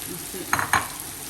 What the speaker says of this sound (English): Now you add your karela in there.